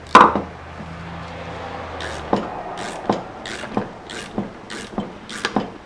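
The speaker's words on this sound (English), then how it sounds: "if you can get at it with a box wrench" A box wrench ratchets on a coilover strut nut of a VW Rabbit, a close series of evenly spaced metallic clicks following a heavier opening clank.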